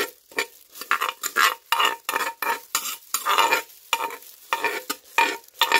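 A Lao papaya salad sauce for thum mua being stirred in a bowl, with steady scraping and swishing strokes repeating rhythmically, close and loud, with no talking.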